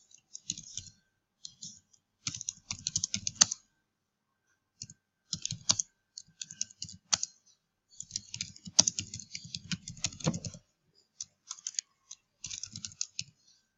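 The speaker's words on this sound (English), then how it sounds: "So here I have to type my content." Keys clatter on a computer keyboard as an email is typed, in irregular bursts of quick clicks separated by short pauses, close and crisp with no voices.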